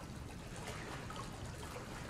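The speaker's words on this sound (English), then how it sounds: "Something dripping?" Water drips and trickles steadily in the survival horror game Resident Evil 7, a faint, continuous watery wash with no distinct drops standing out.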